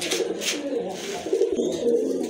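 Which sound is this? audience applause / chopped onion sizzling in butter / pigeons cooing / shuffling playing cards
pigeons cooing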